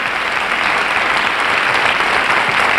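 Steady applause from an audience at a live event honoring Kassav and Koffi Olomide, dense continuous clapping with no voices on top.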